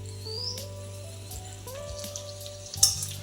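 Peanuts frying in oil on low heat, a quiet steady sizzle with faint tonal chirps and a brief clink near the end.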